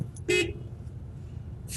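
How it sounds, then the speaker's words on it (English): A car horn gives one short, sharp honk at a red light, close and loud, followed by faint traffic background. "No, I honked the horn."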